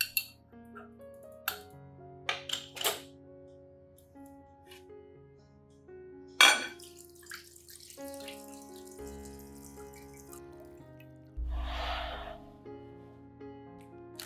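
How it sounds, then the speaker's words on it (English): Water soaked with banana peels is strained, giving scattered clinks and taps of glass and utensils followed by a brief trickle of liquid pouring, mostly sparse and quiet. "strain out the banana peels, keeping only the nutrient-rich banana water"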